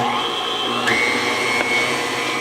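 An electric stand mixer runs steadily while mixing cinnamon roll dough as flour is added, a constant motor whine that holds at an even level throughout with no talking.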